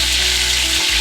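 Pork chops sizzle steadily in a pan while being basted with butter, a brief, loud, close frying hiss with no voices.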